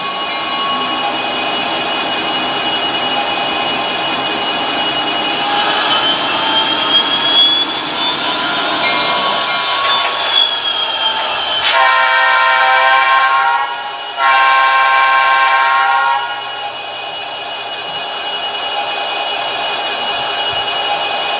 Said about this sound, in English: I'm going to go ahead and make a quick change to the throttle so you can hear some of the sequences that play